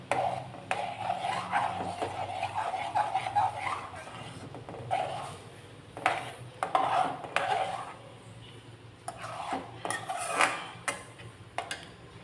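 Spoon stirring and mixing an aval (poha) laddu mixture in a metal pan, with repeated scraping and clinking over about twelve seconds, a continuous close clatter broken by short pauses.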